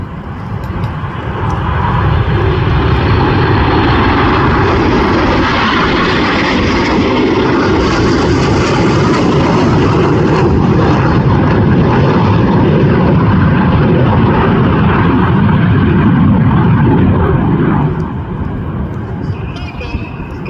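Red Arrows jets roaring past at an air show at the Midlands Air Festival, a loud sustained rushing engine roar that swells and fades over about twenty seconds, with a commentator talking over it.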